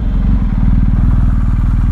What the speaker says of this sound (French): je suis à 130, je vais taper les freins